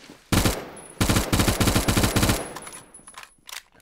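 Automatic AS4 rifle fire in Phantom Forces, loud sustained bursts of rapid shots, a short burst then a longer run of shots, ending with scattered quieter single shots.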